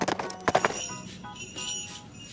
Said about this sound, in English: His hooves made an even louder trip-trap sound that woke the troll.